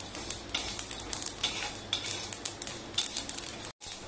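Sesame seeds, peanuts and cumin are dry roasted in a pan, with a spatula scraping and clinking against the metal in quick, repeated strokes over a faint crackle, then a brief silence.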